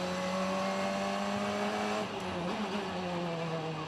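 A Formula Regional single-seater racing on the Macau Grand Prix street circuit in qualifying whines at high revs, then drops sharply through a downshift partway through before the engine note climbs again, loud and steady.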